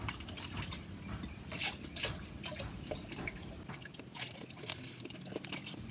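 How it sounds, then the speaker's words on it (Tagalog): Half a litre of lemon-flavored Suntrox liquid is poured into water on a farm, a steady close splashing, trickling pour with no talk. "So ihalo natin itong kalahating litrong Suntrox ito sa ating tubig."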